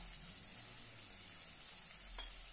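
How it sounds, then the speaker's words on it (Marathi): Spices with turmeric, red chilli, salt and black masala sautéing in a pan for a dry ridge gourd dish, giving a steady faint frying hiss with one small scrape near the end. "मस्तपैकी परतून घेऊया"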